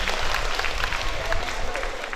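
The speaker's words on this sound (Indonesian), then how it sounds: "Beri tepuk tangan kepada Bapak Sitompul" Applause for Mr. Henry Sitompul of DPR RI Commission 7 at an electric cooking equipment distribution event in Talun Kenas, a short burst of steady crowd clapping filling the whole moment.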